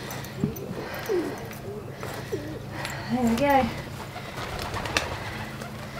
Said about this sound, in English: we're already talking to the pigeons